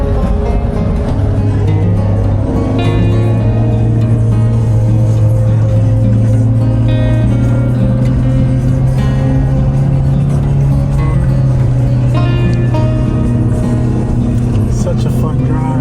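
A Suzuki Jimny climbs a mountain road in Mount Pulag National Park, its engine droning loud and constant, the pitch rising steadily through the gears over sixteen seconds.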